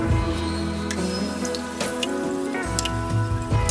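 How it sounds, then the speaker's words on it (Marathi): Water is poured into egg curry masala in a hot pan over high gas, producing a continuous wet sizzle and dripping, spattering bursts throughout, with no voices. "व थोडंसं पाणी टाकून घ्यायचं"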